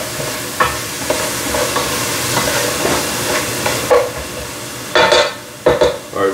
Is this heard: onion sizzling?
yes